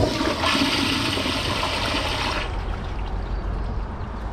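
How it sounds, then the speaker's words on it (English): A 2025 Kohler Highline Pressure Lite pressure-assisted toilet flushes with a loud, forceful rush of water that cuts off sharply after about two seconds, leaving a quieter trickle as the tank refills. "I'm going to give it a second flush after the tank is full to see if it takes the rest of it."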